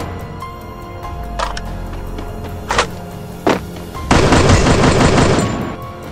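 A FAMAS assault rifle firing: a few sharp separate shots, then a dense rapid automatic burst lasting about two seconds, loud and close.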